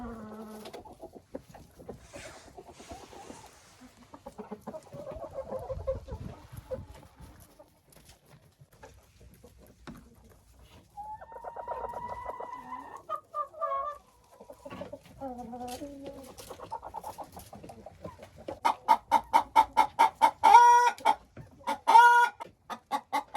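Laying hens clucking inside a chicken coop, scattered soft clucks and calls early on building to louder, rapid repeated cackling toward the end, fairly close with some rustling between.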